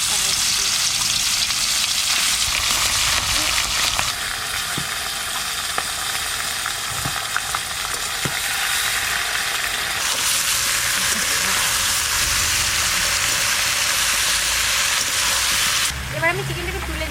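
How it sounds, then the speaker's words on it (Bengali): Chicken coated with turmeric fries in a pan, village style, with a loud, continuous close-up sizzle and hiss broken by occasional scrapes and taps of stirring. "এবার আমি চিকেনটা একটু ভেজে নেব"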